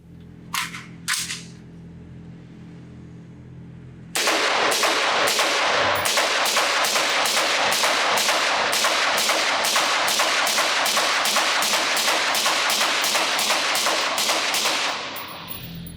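Rifle fire at an outdoor range through a Huxwrx Helix HX-QD-556K flow-baffle suppressor on a 5.56 gun: two early shots, a pause, then a long rapid string of loud evenly spaced cracks lasting about ten seconds.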